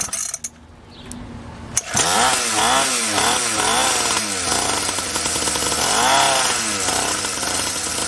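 A SYXmoto dirt bike engine running on a bad fuel mix sputters to life after a sharp clunk, then idles roughly and loudly up close with an uneven, pulsing chug.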